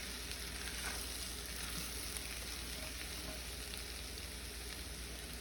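Grated garlic and ginger fry in a pan as the base for a honey tangerine chicken sauce, giving a steady, close, even sizzle that runs unbroken with no voices.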